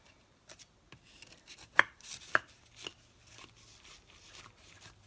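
A knife cuts pieces out of a hot vegan pot pie, making scattered crisp crunches and scraping strokes through the crust, with a few sharper snaps amid quiet pauses.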